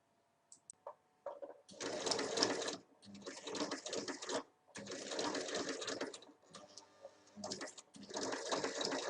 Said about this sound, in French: on va venir piquer les deux extrémités l'une au-dessus de l'autre, comme ceci.